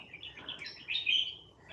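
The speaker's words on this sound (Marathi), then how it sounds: "पक्ष्यांचा आवाज" Birds chirp in trees beside a Konkan village house among coconut palms, a short run of high, thin calls that rise to a brighter, louder phrase near the end, fairly close and alone.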